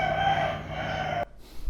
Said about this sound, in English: I bought some roosters.